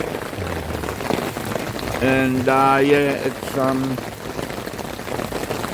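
Rain falling at a campsite, a steady, close patter on surfaces throughout, with someone speaking briefly and another voice or call rising over the downpour midway.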